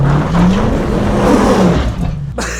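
Off-road 4x4 vehicle driving on a trail, a loud close engine roar with a rising then falling pitch that cuts off near the end.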